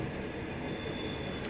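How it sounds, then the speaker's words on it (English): A long freight train rolls past, a continuous broadband rumble of wheels and wagons with faint squealing, steady and unbroken with no voices. "That train is long."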